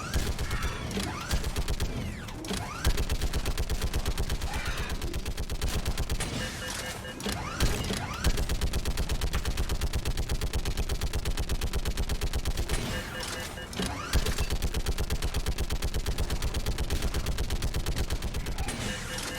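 A mounted gun in the video game Mass Effect 3 fires in long, dense sustained bursts that are loud and continuous, broken by a few short pauses, with game effects mixed in.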